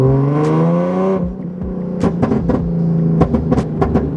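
Nissan engine revs climbing steadily then cutting off, followed by a quieter idle broken by sharp clicks and knocks nearby.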